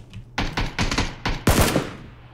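Gunfire in PUBG: several loud, close bursts of rapid shots in quick succession, with short gaps between them and the last burst the strongest.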